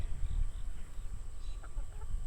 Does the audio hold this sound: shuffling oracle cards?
no